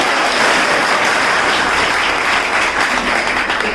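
Loud, sustained applause from an audience at a student's spirited recitation performance, dense steady clapping filling the whole moment without a break and with no voices heard.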